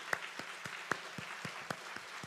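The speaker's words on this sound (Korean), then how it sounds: "마스크를 썼으니 아멘 못하고 박수로" A church congregation wearing masks claps in praise during an Easter-season worship service, a sparse run of about ten distinct handclaps at a steady, slightly uneven rhythm, fairly quiet and with no talking.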